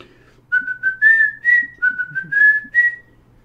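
A pet bird whistles La Cucaracha, a bright, clear melody of short repeated notes in a bouncy rhythm, close and alone over a faint low hum.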